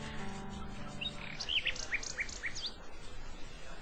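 Bird in King's Quest VI chirping a short series of clear, high tweets in quick succession over soft background music.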